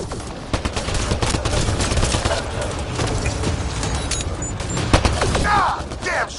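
Rapid, sustained gunfire from a firefight in Mass Effect: Andromeda, dense bursts of shots crackling loudly and continuously with a few sharper cracks and a brief whine near the end.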